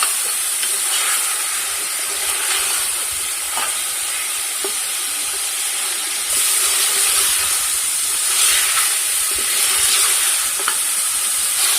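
Chicken pieces frying in a pot of well-browned masala for white kishmish chicken pulao, giving a steady, loud, continuous sizzle and hiss with occasional stirring scrapes, no voices.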